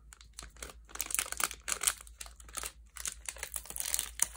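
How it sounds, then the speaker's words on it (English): A Kamigawa collector booster pack wrapper is torn open by hand, giving close, quiet bursts of foil crinkling and tearing in short irregular clusters. "These packs are so hard to open, and I really have to be careful not to damage any of the cards"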